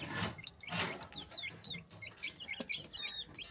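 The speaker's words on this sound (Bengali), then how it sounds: "মুরগিকে খাবার দেওয়া হচ্ছে।" Chickens cluck and cheep repeatedly as they are fed from a plate, a close, lively string of short calls with some scuffling underneath.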